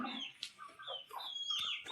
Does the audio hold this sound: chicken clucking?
yes